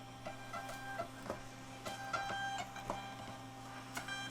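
A Rollo label printer feeding out shipping labels, with a steady mechanical whir and soft rhythmic ticks and clicks, close and moderately quiet, no talking.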